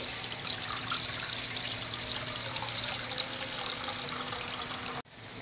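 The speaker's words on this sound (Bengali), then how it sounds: "এবার কড়াইয়ের মধ্যে জলটা দিয়ে দিচ্ছি।" Water poured into a wok set on a lit gas stove makes a steady, continuous splashing trickle that runs for about five seconds and then stops abruptly.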